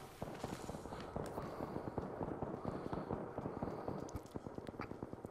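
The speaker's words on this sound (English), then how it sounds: "let's go towards the gunfire." Rapid bursts of gunfire in the battle royale game Apex Legends, a dense stream of sharp cracks and pops crowding together at a moderate distance, with no talk over them.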